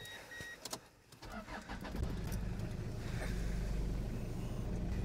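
Engine of a tall four-wheel-drive Toyota Hiace van starting, brief clicks and cranking followed by the motor catching and settling into a low, steady idle rumble nearby.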